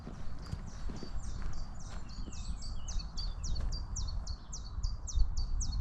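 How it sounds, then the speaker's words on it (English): A Dartford Warbler sings a rapid series of short, scratchy repeated phrases in open heathland, fairly clear above a low rumbling background of wind or handling noise. "Dartford Warbler"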